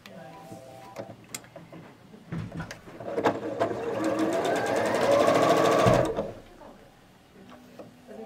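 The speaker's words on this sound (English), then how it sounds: "I'm going to sew those together." A sewing machine stitches quilt block pieces into a nine-patch row, a single steady run of rapid needle clatter lasting about three seconds amid quiet fabric handling.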